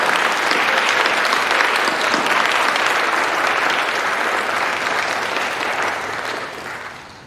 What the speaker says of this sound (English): Let's give these mentors a round of applause for the lives they've lived.